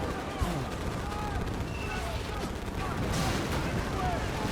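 Dense battlefield gunfire from Medal of Honor Pacific Assault, a steady roar of rifle and machine-gun shots with explosions during a beach pier firefight, with soldiers shouting faintly underneath.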